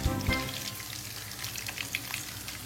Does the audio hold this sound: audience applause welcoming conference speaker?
no